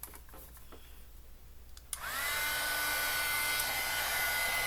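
Heat embossing tool used over a glass mat to melt embossing powder, switching on after quiet room tone and then blowing a loud, steady fan whine that holds evenly to the end.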